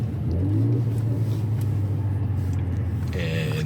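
A car rolls slowly in first gear at about five miles per hour under a low, steady engine rumble, with some faint mechanical whirring near the end, heard from inside the vehicle.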